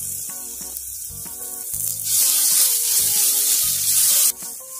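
Garlic sizzles as it fries in a pan for a creamy cabbage and calabresa pie, a steady close hiss with stirring scrapes, rising louder midway.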